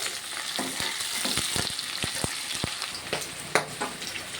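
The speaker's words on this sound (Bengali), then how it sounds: "পেঁয়াজটাকে লাল লাল করে ভাজা হয়ে গিয়েছে।" Sliced onion sizzles steadily in hot oil with whole garam masala spices for an egg curry, a close, even crackle broken by a few soft stirring clicks.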